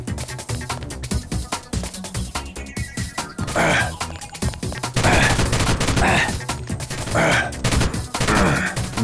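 Gunfire in the video game Deus Ex (The Nameless Mod): rapid bursts of shots crack out in quick clusters, loud and close, with brief gaps and echoing blasts between volleys.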